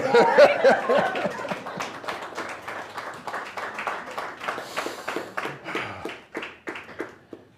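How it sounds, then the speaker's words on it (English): Wedding guests break into clapping after a vow, starting as a loud cluster of hands that thins into scattered, uneven claps with a few chuckles. "You can applaud at that one."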